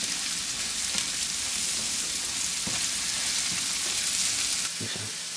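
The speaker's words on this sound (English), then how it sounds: "we're just going to stir our mushroom mixture" Mushroom mixture frying in a pan while being stirred, a constant close sizzle with occasional soft scrapes and clicks of the utensil, ending with a slightly quieter stretch.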